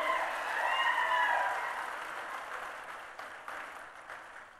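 A large crowd at an outdoor political public meeting in Shadnagar applauds in a broad continuous wash that swells and slowly fades, heard from a distance with no voices over it.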